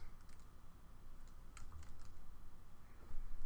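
Steady typing on a computer keyboard, soft close key clicks in an uneven rhythm over a faint room hum.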